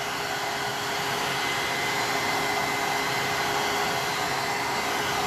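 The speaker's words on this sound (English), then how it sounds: "So don't mind my blow dryer." A hair dryer blows continuously at close range, a loud, even whirring hiss with a faint steady hum throughout.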